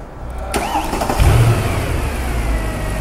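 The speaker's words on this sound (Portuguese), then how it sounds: "Liguei o motor, ok." A car engine cranks and starts during a battery test, a sharp click followed by a quick crank, catching into a steady close idle that holds to the end.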